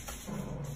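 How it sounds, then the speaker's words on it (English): Poodles growling and grumbling while playing, a brief low rumble off to the side in a quiet room, faint and not close. "you can hear my dogs growling in the background right now"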